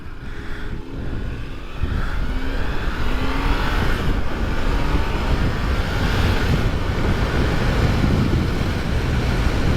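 A BMW motorcycle accelerates hard to pass another vehicle, its engine and wind roar rising into a loud, steady rush that stays close.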